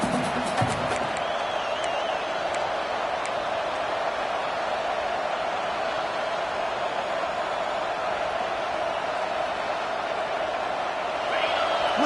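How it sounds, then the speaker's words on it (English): Crowd noise from a stadium packed for a college football game against Clemson, a loud continuous roar with a sustained hum under commentators talking over it. "Listen to the crowd energy here in the early going."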